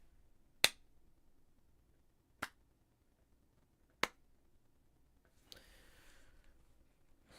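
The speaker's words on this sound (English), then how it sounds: "I'm gonna clap, okay?" Three sharp hand claps spaced over about four seconds, crisp and fairly close, in a quiet room, followed by a brief rustle of noise.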